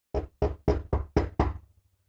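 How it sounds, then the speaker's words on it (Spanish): Six sharp knocks on a street door at midnight, evenly spaced and loud, close by and heard alone with no voices. "golpearon a la puerta de la calle."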